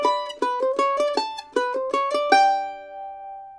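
A lick in G picked on mandolin, a quick run of about a dozen bright plucked notes in a steady rhythm, close and alone, ending on a ringing held note that fades out.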